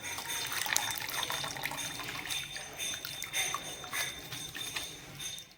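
Cold water pours steadily over blanched spinach in a home kitchen while making palak paneer, a continuous close splashing and trickling that runs throughout without any talk.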